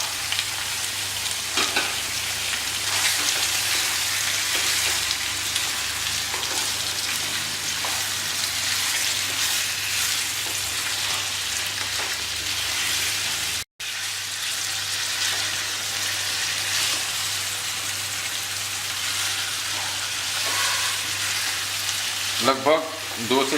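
Chicken pieces sizzle and fry with onions in a hot pan, stirred steadily for a few minutes; a loud, continuous crackle with occasional scraping fills the whole stretch, broken once by a brief pause.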